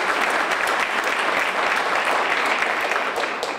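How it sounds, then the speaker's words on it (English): Brief burst of audience applause for newly elected council members, dense clapping from many people at a steady level that tapers a little at the close. "Let's give them a round of applause"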